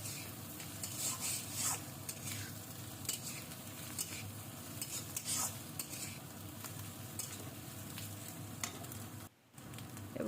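Tomato and carrot fry lightly in a pan for egg Maggi, a steady soft sizzle broken by scrapes and stirring clinks of a spoon, close and fairly quiet throughout.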